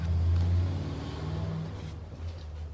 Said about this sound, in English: who the fuck is driving a motorcycle during this pandemic, guys?